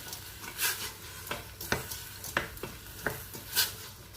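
A spoon stirs a pot of traditional harira soup with chickpeas, giving soft repeated scrapes and knocks against the pot over a faint simmering sizzle, quiet and close, with no talking.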